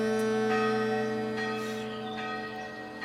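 A large bell rings with a rich, sustained metallic tone and strong humming overtones, one loud strike decaying slowly over a few seconds, heard alone up close.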